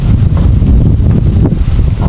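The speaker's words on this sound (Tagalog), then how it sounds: "Ganito kalakas na hangin." Strong wind buffeting the microphone outdoors by rice paddies during a wild dove hunt, a loud continuous low roar with gusty swells that fills the whole short clip with no voices.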